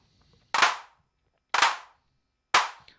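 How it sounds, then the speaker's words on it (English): Three loud, roomy clap hits from a Weston Precision Audio AD110 analog drum synthesizer with wide reverb spread, each a smeared burst with a long washy tail, struck about one second apart with nothing else sounding. "Spread becomes like a messy clap of drunk people on New Year's Eve."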